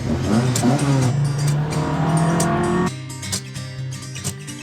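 A rear-wheel-drive Mk2 Ford Fiesta fitted with a five-cylinder Volvo engine accelerates hard, its loud rising engine note climbing steadily before a gear change drops the pitch, with the engine continuing to pull up close.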